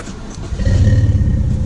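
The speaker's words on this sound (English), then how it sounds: "The car's now started up." A BMW 1 Series E88 convertible's engine turns over and catches, settling into a low, close idle rumble after a brief cranking noise, heard alone.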